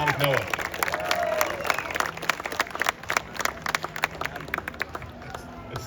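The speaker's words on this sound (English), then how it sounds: "Round of applause for Yannick Noah." Crowd applause and cheering for tennis player Yannick Noah at the Laver Cup, dense rapid clapping heard close and continuous, with voices speaking over it at the start.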